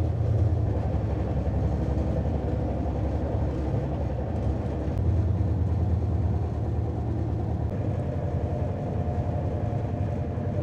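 The 12703 Falaknuma Express runs from Kolkata toward Hyderabad, a steady loud rumble and rattle of wheels and carriages heard from inside without a break, with no talk.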